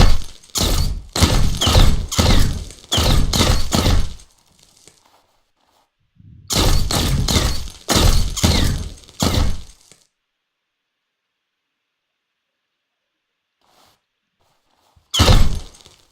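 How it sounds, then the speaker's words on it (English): A wooden table in a shooter video game blasted apart by gunfire: rapid bursts of loud cracking and splintering impacts in two long volleys, then silence and a final short burst, with no voices. "Let me just destroy this table."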